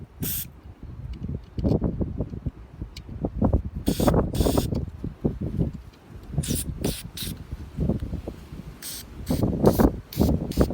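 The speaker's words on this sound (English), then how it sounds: "Same thing, just spray it, make sure it's clear." Cleaner is sprayed onto a part of a Bolens MTD mower carburetor during a rebuild in a series of short, sharp hissing bursts between low mechanical handling noises and brief speech.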